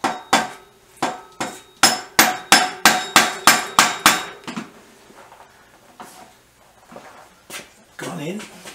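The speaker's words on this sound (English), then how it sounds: "we're back with our plastic hammer" A plastic hammer strikes a BSA B50T motorcycle part about a dozen times in a fast, even run of sharp knocks, then a few sparser taps follow with faint handling noise.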